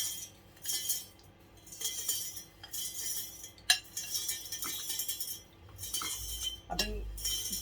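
Dry, stale bread pieces drop and rattle into a container in short, crisp, rustling bursts close by, with brief pauses between each handful.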